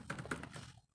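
An Enter key pressed on a computer keyboard, heard as a short, soft patter of key clicks at close range that fades to quiet within a second.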